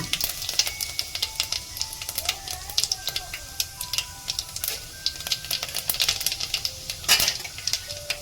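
Fennel seeds and a bay leaf sizzling in hot oil while making tomato rice, a light crackling fry with occasional utensil clinks and faint background voices and tones.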